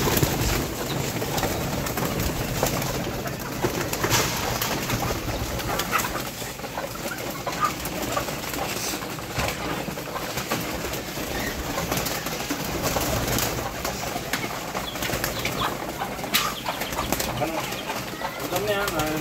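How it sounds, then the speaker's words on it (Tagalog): A flock of pet pigeons coos and flutters at feeding time, a dense, constant chorus of soft cooing close to the microphone with occasional wingbeats, and voices talking over it. "magpapakain na tayo ng kalapati natin"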